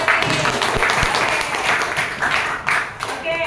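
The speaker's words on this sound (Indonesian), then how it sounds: "Beri aplaus buat Seri" A class claps for the student Seri, producing a burst of fairly loud, scattered applause from many hands, fading and resurging briefly while people talk over it.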